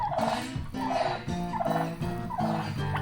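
Homestead turkeys gobble in repeated loud bursts, about four rattling calls at even intervals, close by with no talking.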